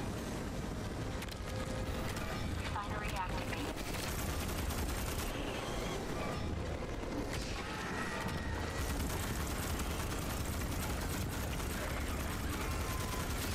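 An unstable, high-capacity gun in Starship Troopers: Extermination sprays sustained rapid gunfire, a dense continuous clatter mixed with booming battle noise and occasional voices.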